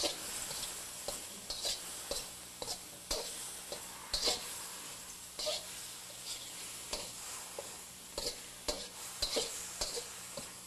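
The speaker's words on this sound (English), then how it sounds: "The shrimp will cook extremely fast with a hot wok." Shrimp stir-frying in a hot wok, with a steady quiet sizzle broken by frequent short scraping and clinking strokes of a utensil against the metal, fairly faint and close, no talk.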